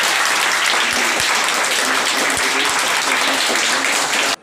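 Loud, dense applause from a crowd of children watching the Chandrayaan-3 moon landing broadcast, with a sustained roar of clapping and no clear breaks, cut off abruptly at the end.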